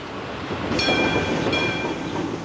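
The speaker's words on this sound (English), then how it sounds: "the Glenelg tram has been rattling its way down to Adelaide's premier seaside resort" The Glenelg tram in Adelaide rumbles and rattles along the tracks, with high metallic squeals of the wheels rising twice over the steady noise.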